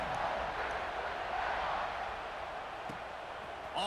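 Stadium crowd in the College Football 26 video game murmurs and cheers as a team sets up to kick off, a steady moderate roar with a commentator's voice over it.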